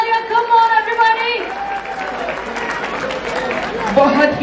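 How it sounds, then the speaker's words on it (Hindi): An audience at a live stage show breaks into applause after a speed-painting act with glitter, the clapping spreading under a host's amplified voice, with loud music over the crowd. "एक बार जोरदार तालियां"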